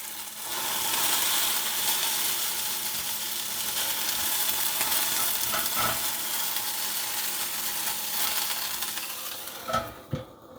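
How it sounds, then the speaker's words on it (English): Potatoes frying in a pan for a breakfast hot dog, a dense, steady sizzle with constant stirring, close and loud, ending in a few distinct clacks of a utensil against the pan. "As you can see, our potatoes cooking nicely. Make sure you're constantly just moving it around."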